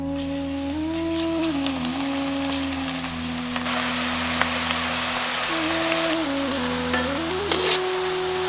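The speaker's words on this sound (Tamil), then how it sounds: "மிதமான சூடு இருக்கிற எண்ணெயில பக்கோடாவை இப்ப பொரிக்க ஆரம்பிச்சிருவோம்" Pakoda sizzles and crackles steadily in moderately hot oil, with a faint tonal hum running underneath.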